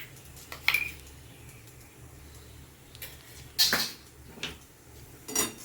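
A spoon mixing oats filling into paratha dough in a bowl makes a few sharp, scattered clinks and scrapes against the bowl, separated by quiet pauses.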